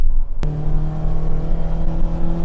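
A BMW E30 with a swapped M44 engine gives a sharp start, then drones loud and steady close by, its engine tone holding without talk.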